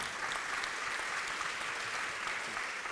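Audience applause for three speakers closing a conference session on sobriety and transition, a steady dense wash of many hands clapping, fairly soft and even throughout with no voices on top.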